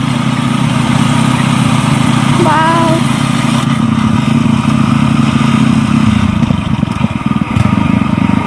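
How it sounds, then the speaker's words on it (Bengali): A paddy harvesting machine with cutting blades runs in a field with a steady droning engine rumble, close and loud throughout, with a faint whistle-like tone partway through. "সেই না মেশিনটা দেখো বন্ধুরা কি দারুন ধান কাটা মেশিন"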